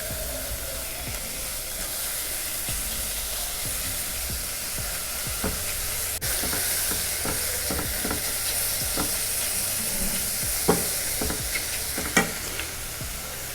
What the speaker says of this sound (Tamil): மஷ்ரூம் நீங்கள் போடும் போதே அந்த பாட்டமில் அந்த சவுண்டு வரணும்.